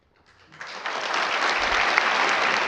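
Audience applause at a board meeting starts from near silence, swells within the first second and holds as steady, full clapping to the end.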